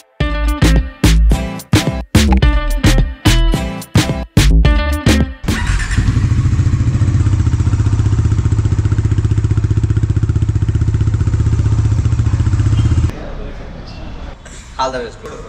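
A new Bajaj Dominar 400 motorcycle with a BS6 engine. It opens with loud clattering knocks and thumps, then the engine settles into a steady, close, throbbing run for several seconds before it cuts off and quieter noises follow.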